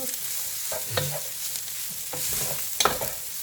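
Fresh vegetable noodles are tossed and stirred in a hot pan, with a steady sizzle broken by a few scraping, clattering stirs and a louder toss near the end.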